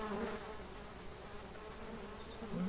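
Steady insect-like buzzing of bees in the farming game Farming Simulator 17, a faint continuous drone with no talking.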